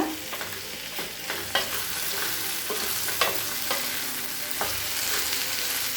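Onions, tomatoes and cashews sauté in a kadai for a paneer gravy, with a constant close sizzle broken by several sharp spoon scrapes and knocks against the pan.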